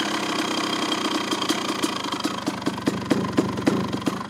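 A CR motorcycle engine idles steadily with a lumpy, regular beat and faint mechanical ticks, close and alone with no voices.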